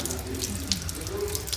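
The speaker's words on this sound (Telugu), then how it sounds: "అదే మన పైప్ అనుకుంటున్నా నీళ్ళు పడుతున్నా అట్లా నింపు ఫుల్ నింపు" Water pours steadily from a pipe into a vessel as it fills, a continuous close splashing rush throughout the short stretch.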